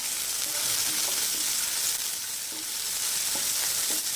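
Capsicum and tomato fry in a kadai with a steady, close sizzle and a few faint stirring knocks.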